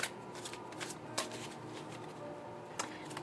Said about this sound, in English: I'm just going to shuffle the cards a little bit here.